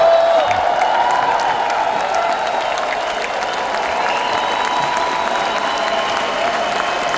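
A standing audience at an evangelistic church event in Edmonton claps steadily, a dense sustained patter of many hands with scattered cheers and whoops, loud and continuous throughout.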